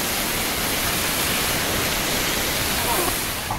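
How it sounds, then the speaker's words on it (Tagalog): A powerful water cannon blasts a steady, dense roar of spraying water against the coast guard ship BRP Datu Bangkaw at sea, loud and unbroken throughout. "Eto, mamatama na yung water cannon."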